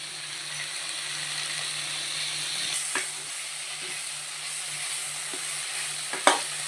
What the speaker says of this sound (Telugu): టమాటా వేగినంత వరకు వేపుకోవాలండి.